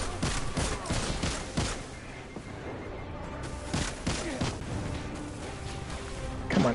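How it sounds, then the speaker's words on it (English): Tracking rockets striking snipers in a Destiny Crucible match, a volley of sharp blasts and crackling gunfire in quick succession, loud and close, with a louder impact at the very end. "Did my tracking rockets work?"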